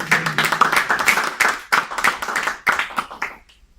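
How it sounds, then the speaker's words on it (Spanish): Lecture audience at a cognitive science research centre claps to welcome a speaker, a close burst of hand claps in uneven surges that thins out and stops just before the end. "les pido un fuerte aplauso para darle la bienvenida"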